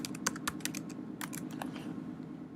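Quick clicking keystrokes on a computer keyboard, a short burst of irregular taps followed by a few more, fairly close and quiet over a faint room hum.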